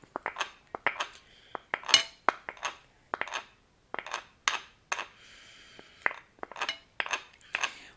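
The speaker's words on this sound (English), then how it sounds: "We are going to mix all of this together so the ghugni and the potatoes get really well mixed with the masala." A spoon scrapes and clinks against a metal pan while yellow peas and cooked potatoes are stirred into a masala for Bengali ghugni, close up, in irregular bursts of clattering strokes with brief pauses and no talking.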